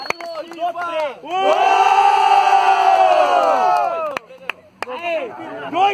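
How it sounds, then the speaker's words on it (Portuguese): A crowd at the grand final of a student rap battle in Guarulhos, São Paulo, roars and chants for several seconds. The loud voices swell and hold together before fading, with a host's shouting around the burst. "Barulho, Riva!"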